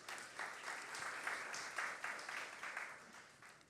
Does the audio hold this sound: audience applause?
yes